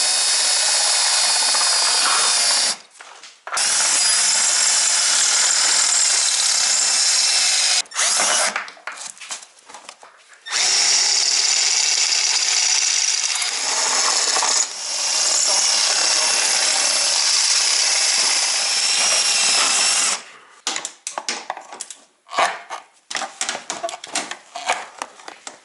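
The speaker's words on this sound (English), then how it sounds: "We're going to drill out these rivets." A power drill drills out rivets on a Ski-Doo snowmobile snow flap, loud and close, in long whining runs broken by short pauses and ending in choppy bursts.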